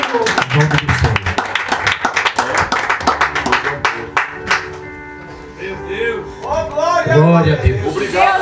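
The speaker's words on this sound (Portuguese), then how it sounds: "aplauda Jesus" A church congregation claps in applause through a Saturday worship service, loud rhythmic hand-clapping that carries on under a preacher's amplified voice and music before fading as he speaks.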